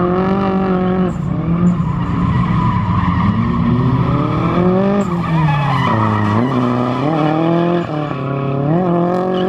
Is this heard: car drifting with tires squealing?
yes